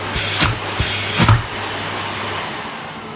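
A repaired Miele S512 vacuum cleaner runs at half suction, a steady whooshing motor drone with a couple of brief louder surges of air early on, close by.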